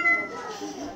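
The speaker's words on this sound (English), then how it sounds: "We got a robot to save sounds like bird sounds and meowing." A recorded cat meow played back by a school robotics club robot, one short tonal mew that fills the whole moment at close range over faint room noise.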